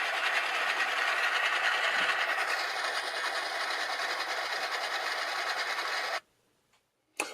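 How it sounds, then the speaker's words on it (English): A Rapido HO scale 44 tonner model locomotive runs with a steady, close motor whine under a droning sound-decoder engine, then cuts out abruptly near the end, leaving near silence before a brief burst returns. "The sound in this little locomotive is great for something this size."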